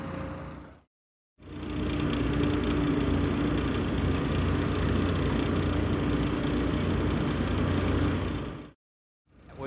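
A Tier 4 diesel engine runs steadily in a residential setting, a constant mid-pitched drone held for several seconds between brief silent gaps, close and loud with no talk.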